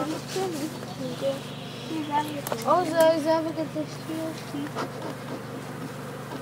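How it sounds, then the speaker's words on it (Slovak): Honeybee drones at a hive drone in a steady, fairly loud hum during a beekeeping lesson for children, while a child and an adult talk over it. "Toto, čo tak silno húča, čo teraz očujete, to sú trubci."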